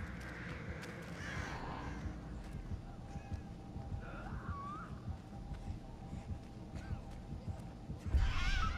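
Crow cawing in the horror game Dead by Daylight, a few short harsh caws in the middle of the clip over a constant low rumbling ambience, with a louder burst near the end.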